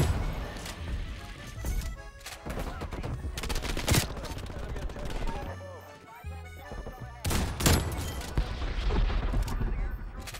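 Marshal pistol shots in Call of Duty Cold War, fired at point-blank range amid other loud game gunfire and impacts, with repeated sharp bangs spread across a busy, dense soundscape.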